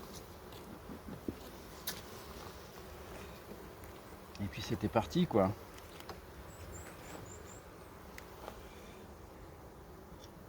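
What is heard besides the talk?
honey bees buzzing around an open hive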